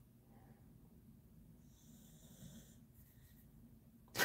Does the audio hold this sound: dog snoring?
yes